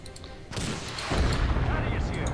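Devastator heavy-weapon squads in Dawn of War II firing on a base wall, a sudden burst of heavy gunfire and booming impacts that builds into a sustained rumbling barrage, with voices talking underneath.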